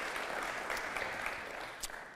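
Applause rises from a conference audience, a brief, dense burst of many hands clapping that holds steady and then tapers slightly near the end.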